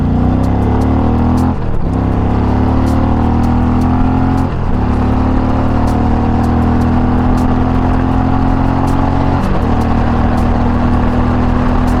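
A 2022 Indian Dark Horse Pursuit motorcycle in sport mode at full throttle, engine roaring loud and close as it climbs through gears with rising pitch and brief dips at each shift, ending at the rev limiter.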